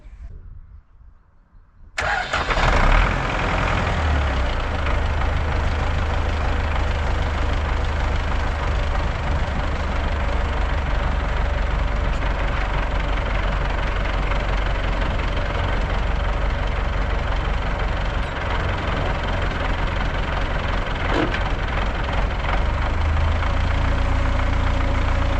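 An MTZ-82 tractor engine starts and then runs steadily as the tractor drives off, a loud, close, continuous diesel rumble that holds at an even level after a short quiet start.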